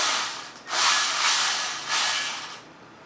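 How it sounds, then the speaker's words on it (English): Ratchet clicking as screws are run in during a Tesla motor swap, a few bursts of close, fairly loud ratcheting with brief pauses between them. "We have our ratchet here."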